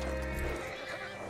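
A horse neighs loudly and close in Red Dead Redemption 2, a strong whinny with a few hoof clops, heard alone with no talk.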